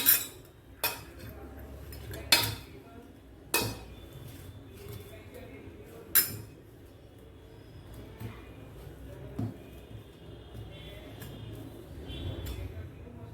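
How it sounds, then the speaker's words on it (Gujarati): Potatoes and spices mashed with a potato masher in a pot, producing a few sharp metallic knocks and clinks at irregular intervals over soft, squishy background noise. "પોટેટો મેશરથી મેશ કરી લઈશું."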